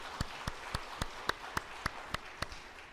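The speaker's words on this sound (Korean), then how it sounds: "우리 박수로 축복하고 격려하겠습니다." Slow, evenly spaced claps at a Sunday afternoon church service, about ten sharp hand claps in a steady rhythm, fairly quiet and close, with no talking over them.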